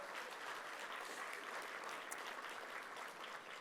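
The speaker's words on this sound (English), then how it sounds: "Fran Inman, let's give her a round of applause." Audience applause for a committee chair at a World Trade Week chamber event, steady sustained clapping from a crowd throughout, fairly distant and even, with no talk over it.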